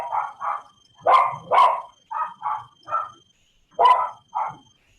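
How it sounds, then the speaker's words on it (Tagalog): A dog barks repeatedly nearby in an irregular series of about nine sharp yaps and barks, some in quick pairs, with silence between them and no voices. "Maingay ang aso."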